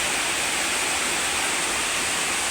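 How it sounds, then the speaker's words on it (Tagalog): Heavy rain pours down in a dense, constant hiss with flooding water, a loud unbroken wash of sound with no distinct drops standing out. "Bumaha na dito yung sobrang lakas ng ulan"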